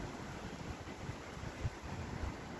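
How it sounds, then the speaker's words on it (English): Strong outdoor wind buffets the microphone in a continuous low roar with gusty swells, on a snowy-day Georgia scene. "It's so windy out here."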